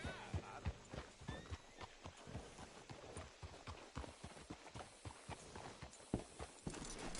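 Horse hooves clip-clop at a steady walking rhythm in Red Dead Redemption 2, each close, crisp strike distinct over a low ambient background, with no voices.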